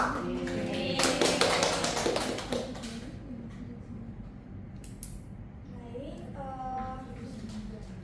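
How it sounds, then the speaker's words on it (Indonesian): Applause from a classroom group during a microteaching lesson, a dense burst of clapping for about three seconds that fades out, followed by quieter room sound and brief voices of the students. "baik, tepuk tangan"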